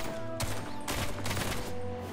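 Shooting in the Duet Night Abyss video game comes as two or three short bursts of sharp, crackling shots, close and fairly loud, with a quieter hum between them.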